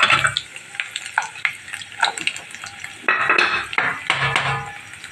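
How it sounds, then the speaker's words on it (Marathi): Dry fruits frying in hot ghee for beetroot burfi, a busy crackling sizzle broken by repeated metallic scrapes and clatters of a spoon against the pan, close and fairly loud. "तूप गरम झाला त्याच्यात ड्रायफ्रुट्स टाकीन।"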